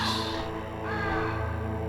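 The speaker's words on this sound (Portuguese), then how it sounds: "Ah, é, os corvos." Crows caw in the video game Metal Gear Solid on PlayStation, a couple of harsh calls layered over a steady droning, humming game soundtrack.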